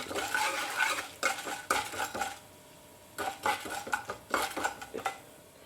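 Chana dal and urad dal frying in a pan while a spoon stirs and scrapes, with bursts of clattering metal against the pan and a light sizzle between them.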